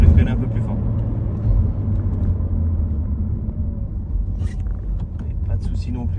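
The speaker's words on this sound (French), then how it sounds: "Et là, je vais freiner un peu plus fort." A Peugeot 508 drives and brakes hard, its low road rumble and engine drone steady and close from inside the cabin, with someone speaking over it.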